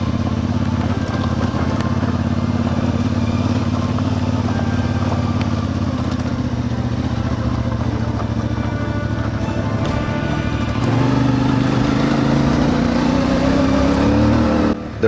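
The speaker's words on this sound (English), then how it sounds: "riding a motorbike, especially off-road when the terrain requires your full focus" Off-road motorbike ridden through the hills near Chefchaouen, Morocco, its engine droning steadily up close for the whole stretch, then rising in pitch as the rider accelerates near the end.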